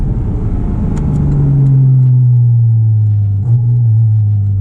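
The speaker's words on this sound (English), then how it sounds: "just those downshifts are amazing" Porsche Cayman GT4 RS engine heard from inside the car, a loud, close droning roar whose pitch falls steadily as it downshifts, with a brief blip partway through.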